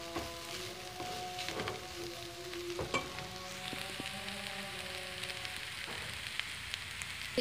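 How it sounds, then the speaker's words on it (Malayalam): Chicken fried rice ingredients sprinkled with pepper powder are stirred and mixed in a hot pan, a steady close sizzle with scraping and tossing clatters and no talking. "ഇനി ഇതെല്ലാം കൂടി നന്നായിട്ടൊന്ന് മിക്സ് ചെയ്യാം."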